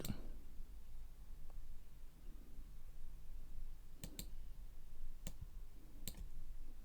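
Sharp, isolated mouse clicks, a few single and paired taps spaced irregularly over a quiet room background, made while editing in VideoPad software.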